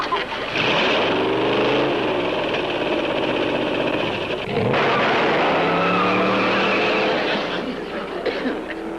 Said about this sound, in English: I'll drive this bomb so fast it'll just be a blur.